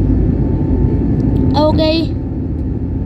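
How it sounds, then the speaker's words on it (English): Airplane taking off, a loud steady low engine rumble filling the cabin throughout, with a brief voice and a short tonal chime over it midway. "We're takeoffing."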